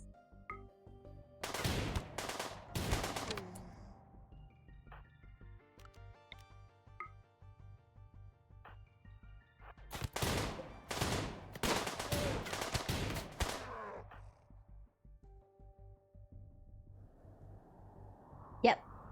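Colonists fire guns in Rimworld in two loud bursts of rapid shots, with quieter game effects and tones in the gaps between volleys.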